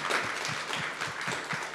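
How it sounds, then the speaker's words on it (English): Conference audience at a ZK8 event applauding, a modest, fairly faint spatter of clapping with claps picked out individually in a brief, even burst. "I think we should all acknowledge via a round of applause"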